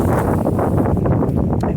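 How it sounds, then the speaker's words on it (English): Strong cold winter wind gusting outdoors in a garden during a freeze, a loud, steady roar buffeting the microphone with no speech. "we're already getting blow your hat off wind already at this point in the day"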